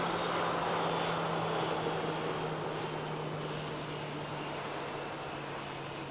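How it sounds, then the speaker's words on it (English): A KLM aircraft arriving at Manchester Airport, a steady broad jet engine roar with a low hum that slowly fades a little over several seconds, no voices. "Because this is the KLM arrival."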